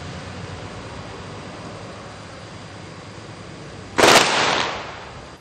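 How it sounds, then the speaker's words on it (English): A ceremonial rifle volley rings out at a funeral: one sharp, loud report cracks out of a steady outdoor hiss and decays over about a second. "before the firing of the volleys took place"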